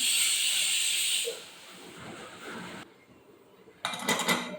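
A pressure cooker on a stove, cooking olan, releases steam in a loud, sharp hiss that dies down after about a second, followed by quieter sputtering and a final short burst of hissing.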